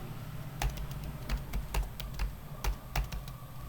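Steady typing on a computer keyboard while filling in an account sign-up form, a run of crisp, fairly soft key clicks in an irregular rhythm over a low background hum, no voices.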